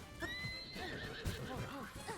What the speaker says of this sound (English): I'm gonna get a horse.